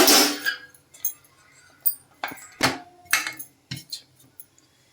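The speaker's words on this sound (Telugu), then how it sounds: "మూత పెట్టుకుందామండి." A metal lid is set onto a cooking pot, giving a series of sharp clinks and clatters spaced over a few seconds, close and distinct.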